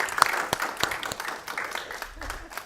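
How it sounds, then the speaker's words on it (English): Audience at a technology meetup applauding, with scattered, moderate claps and a few sharp hand slaps over a short, thin burst of clapping. "Let's give her a huge round of applause."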